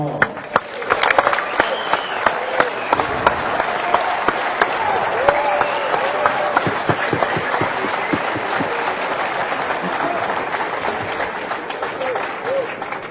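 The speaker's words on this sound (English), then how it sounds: "That was Joseph Chong getting a well-deserved round of applause for his excellent run in the World Series of Poker." A poker tournament audience at the World Series of Poker main event breaks into sustained applause, dense steady clapping for the whole stretch, with a murmur of crowd voices underneath.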